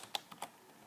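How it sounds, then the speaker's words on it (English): A few quiet, sharp keystrokes tap on a computer keyboard, irregularly spaced clicks close by with near silence between them. "let's go ahead and type something in the console with this line of code"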